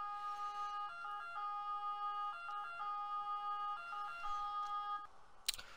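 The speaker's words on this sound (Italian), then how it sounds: "Per gli amanti delle sirene dedico questo pezzone," An ambulance siren sounds in the Emergency 4 video game, a clean two-tone electronic wail repeating in steady cycles for about five seconds before a brief clatter.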